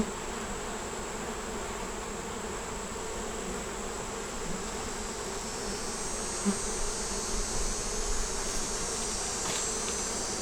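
Honeybees buzzing steadily around an open hive during an inspection, a dense, continuous drone of many wings close by with no voices.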